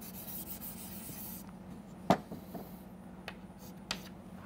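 Writing being rubbed off a board during a lecture: a short burst of scrubbing friction, then quieter pauses broken by a few faint taps and knocks.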